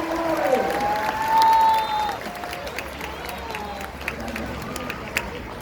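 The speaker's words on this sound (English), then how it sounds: "Let's give our volunteers a huge round of applause, man" An audience at a SeaWorld killer whale show applauds the soaked volunteers, a broad steady roar of clapping and cheering with a whistle and voices mixed in.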